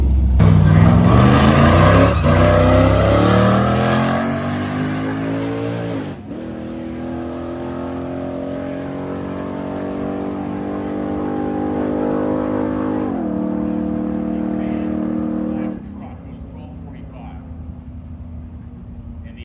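At a drag racing event, a chopped van with a 6-liter LS V8 revs hard and loud, engine pitch climbing through several gear shifts with brief drops between them before the sound eases off.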